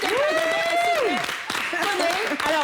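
Studio audience on a TV talk show set applauds the guests, a dense wash of clapping and crowd noise running under a loud, sustained voice that talks over it throughout.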